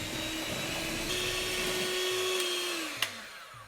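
An electric mixer works flour into cookie dough for South African boere soetkoekies, a steady motor whine running alone and dropping in pitch as it winds down.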